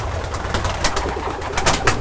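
Sport pigeons in a dovecote coo close by, with soft repeated throaty calls and some rustling, with no talk over them.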